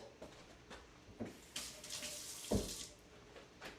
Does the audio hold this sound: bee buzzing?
no